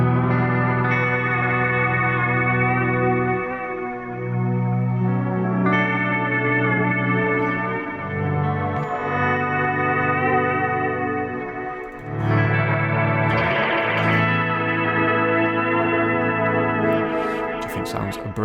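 Sustained, swelling guitar chords run through a Meris LVX delay pedal preset using poly delay, with lush chorus-like shimmer and echo trails, loud and continuous with chord changes every few seconds and no talking.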